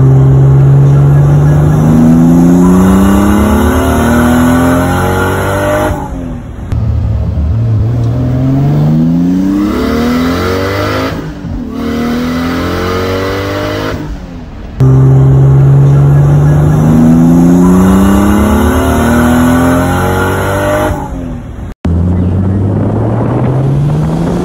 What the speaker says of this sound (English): the car definitely pulled. It was fast.